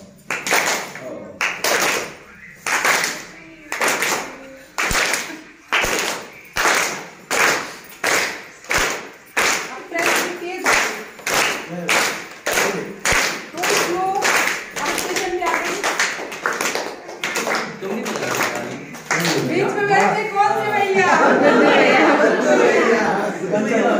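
A group at a teaching-materials workshop claps in unison in a steady train-like rhythm of sharp, evenly spaced claps that speed up and blur into scattered clapping and excited chatter near the end, with voices heard between beats.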